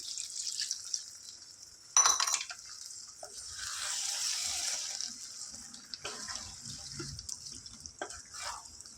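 A small glass of water splashes into a pan of gongura chicken curry, a brief pour with clinks of glass against the pan, followed by softer trickling and scattered drips, close and fairly quiet.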